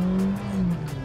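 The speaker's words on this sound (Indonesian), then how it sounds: "sekarang kita cobain mesin K15C-nya dari Suzuki Fronx" The Suzuki Fronx's K15C engine revs in a short, steady burst, a close, fairly loud droning hum with no talk.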